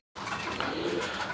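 A pair of domestic Golla pigeons cooing softly up close, a short low continuous coo that starts abruptly after a moment of silence.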